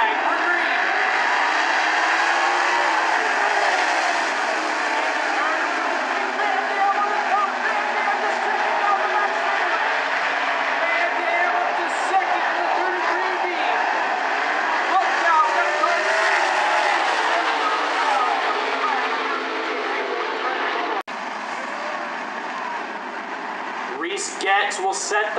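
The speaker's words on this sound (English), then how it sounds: "10-lap heat race off of turn 4." Sprint cars roaring past at the start of a ten-lap heat race at Grays Harbor Raceway, a loud, sustained engine drone from several cars, with an announcer talking over it throughout.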